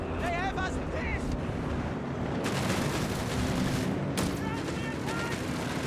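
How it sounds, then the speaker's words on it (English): Machine gun fire rattles through a Company of Heroes 3 battle between German and American-British forces, dense continuous bursts and blasts filling the mix beneath an excited commentator's talk. "And more machine guns here out of the British player as well."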